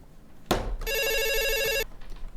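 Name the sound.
phone ringing for a call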